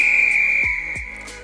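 A limited edition Acme referee whistle at Twickenham gives one loud, sustained, shrill blast that trails off, with a couple of low thumps underneath and no voices.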